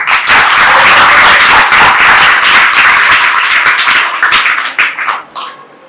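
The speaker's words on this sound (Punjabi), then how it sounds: "ਸਾਰੇ ਬੱਚੇ ਇਹਨਾਂ ਵਾਸਤੇ ਤਾੜੀਆਂ ਲਗਾਓ" Schoolchildren at a government high school in Patiala applauding a guest, a loud dense burst of many hands clapping close by that holds steady, then thins into scattered claps and fades out at the end.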